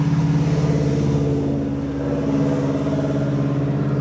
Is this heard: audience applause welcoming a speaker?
no